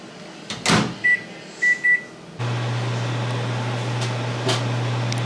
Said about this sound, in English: I'm just gonna throw this in the microwave for about a minute to heat up the milk.